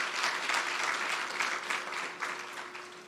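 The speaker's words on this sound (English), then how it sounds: "let's give him another round of applause," An event audience gives a round of applause for a tourism minister, a dense, steady wash of clapping that thins slightly near the end, with a faint constant hum beneath.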